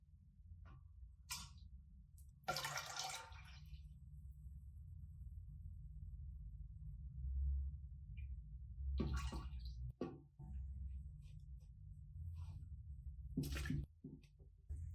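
Cold water runs steadily into a cooking pot for a big turkey, a continuous low gushing stream with a few louder splashes and clunks, close by and with no talk.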